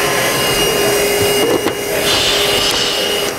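A Milwaukee cordless saw hooked up to a dust extractor runs steadily, a continuous loud whirring drone with a faint motor whine and a couple of brief bumps partway through, no talking.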